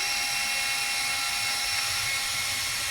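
A Gaiatop portable handheld mini fan runs with a steady, high-pitched motor whine and airy hiss, constant and fairly quiet throughout with no talking.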